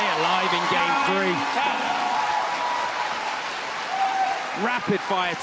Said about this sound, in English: Rapid fire table tennis. Rightly applauded by the audience.